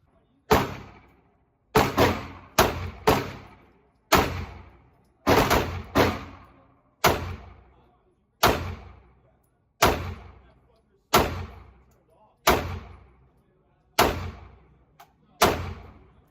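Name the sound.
live gunfire at a shooting range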